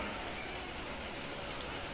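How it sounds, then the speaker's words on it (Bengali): Light rain falls in a steady, soft hiss of fine drops, even and continuous throughout, fairly faint with no voices. "এই যে বৃষ্টি চলছে"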